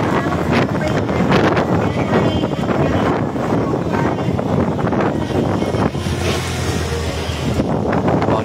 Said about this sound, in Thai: ตอนนี้ลมแรงนะครับ